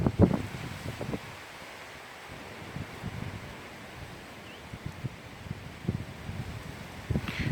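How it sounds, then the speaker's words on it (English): Gusty wind on a rainy day in the UK rushes and buffets the microphone, with intermittent low thumps and rustling throughout. "It's windy, it's rainy, probably going to snow tonight"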